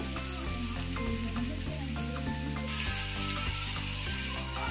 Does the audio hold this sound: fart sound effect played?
no